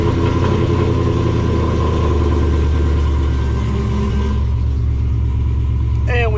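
A race car engine, checked for oil before starting, rumbles loud and steady at idle close by, a dense low drone with a faint higher whine near the end.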